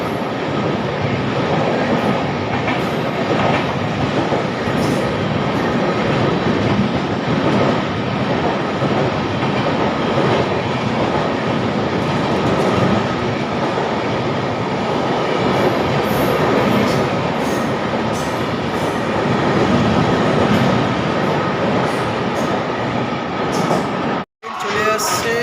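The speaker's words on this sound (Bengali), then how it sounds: "এখন বর্ধমান স্টেশনের ওপর দিয়ে যাচ্ছে হাওড়া থেকে নিউ দিল্লিগামী দুরন্ত এক্সপ্রেস" The Howrah–New Delhi Duronto Express passes through Burdwan station: a loud, continuous rumble with rhythmic wheel clatter that holds for the whole stretch and then cuts off abruptly near the end.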